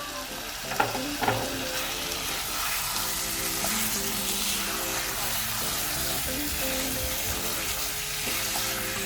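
Potato pieces sizzle steadily in a hot pan of Bengali-style chicken curry over a raised flame, a continuous frying hiss with a couple of brief clatters near the start.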